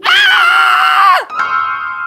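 A woman lets out a loud, sustained high scream at close range, cut off sharply, followed by a fainter ringing tone.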